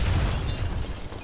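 A grenade detonates in the Rogue Company shooter game, a short, muffled, low rumbling boom that fades over about a second.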